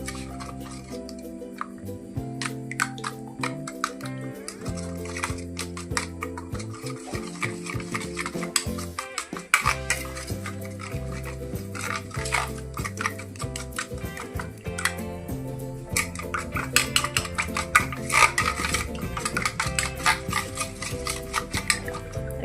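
Eggs with salt, chili powder and pepper beaten in a bowl, a rapid steady ticking and scraping of the utensil against the bowl running throughout under looping background music.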